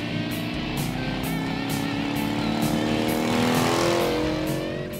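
Harley-Davidson Sportster motorcycle engine, smaller than the classic Harley engines, running steadily and loud with a rising rev toward the end, a continuous close rumble with no talk.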